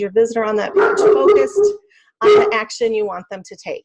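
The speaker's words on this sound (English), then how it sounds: "Sorry about the dog in the background." A dog barks and whimpers in the background of a room while someone talks steadily over it, the dog sounds faint and mixed under her voice.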